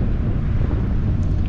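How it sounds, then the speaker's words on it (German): Strong outdoor wind at a campsite buffets the microphone in a constant, loud roar of low rumbling noise, with no voices. "wenn der Wind so zieht, dann ist das schon echt frisch"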